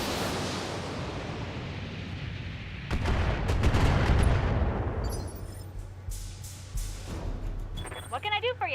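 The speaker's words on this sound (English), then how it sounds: "I'm just gonna fire one of the LRM-10s." An LRM-10 long-range missile launcher firing in the Battletech game: a low rumbling hum gives way to a loud burst of rapid launch blasts, then scattered sharp impacts and mechanical clatter, with a voice talking partway through.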